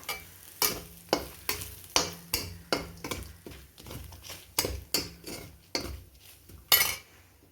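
A spoon repeatedly scraping and clinking in a pan while turmeric and chili powder are mixed into frying fish pickle, about a dozen rhythmic strokes over a faint sizzle.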